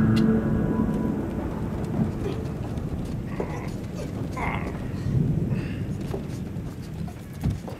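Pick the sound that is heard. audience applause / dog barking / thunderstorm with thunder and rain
thunderstorm with thunder and rain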